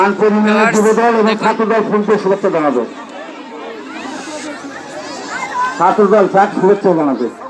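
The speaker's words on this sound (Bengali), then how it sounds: "নির্বাচনী পথসভায় কিন্তু অনেক ভিড় হয়েছে।" Crowd chatter fills an election street rally for the BNP in Birampur upazila, Dinajpur, with loud amplified voices speaking over a dense, steady murmur that surfaces more clearly in a brief lull.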